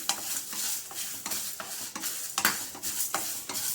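Sesame seeds, curry leaves and lentils crackling in hot oil as a tempering for a raw banana palya, a close, busy sizzle broken by regular stirring scrapes, no voices.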